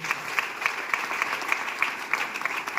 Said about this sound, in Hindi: एक बार चाहूंगा मेरे माँ और भाई के लिए जोरदार ताली।